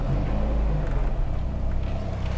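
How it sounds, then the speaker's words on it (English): A Volvo 480 engine with a slight judder gives a short, low rev, a steady rumbling drone that holds at moderate loudness for a couple of seconds. "Let me just give it a little rev."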